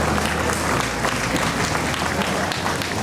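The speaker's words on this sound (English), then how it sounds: "we climb high into the crowd to cheer Linda on." A packed rodeo grandstand crowd cheering and applauding, a loud, dense wash of clapping and crowd noise that holds steady and close the whole time.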